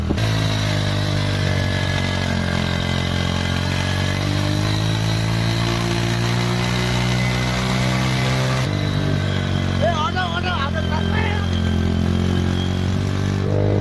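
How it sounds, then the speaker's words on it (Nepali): An old motorcycle engine runs steadily close by with a rough, clattery idle throughout, shifting tone briefly partway through; no talking. "बाइक चाहिँ पुरानो भयो नि तान्छ है"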